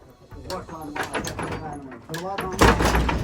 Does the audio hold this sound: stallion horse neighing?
no